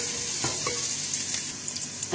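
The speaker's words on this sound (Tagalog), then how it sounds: "Pinagsabay ko po igisa yung sibuyas at talong mga kabayan." Onion and eggplant sautéing together in a hot pan, a dense steady sizzle with soft stirring scrapes, close and fairly loud.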